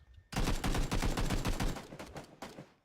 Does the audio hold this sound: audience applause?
no